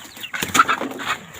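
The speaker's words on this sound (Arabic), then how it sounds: "ازيكم يا فراخ؟" Chickens in a coop give a brief cluck close by, a short burst with a little rustling and no talk.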